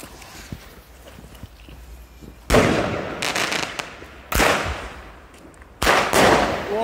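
Funke Red Blue fireworks go off in three loud, crackling bursts, each a sharp onset followed by a spray of popping and sizzling that tails away, separated by brief quieter gaps.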